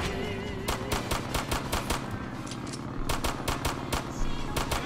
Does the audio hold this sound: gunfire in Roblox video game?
yes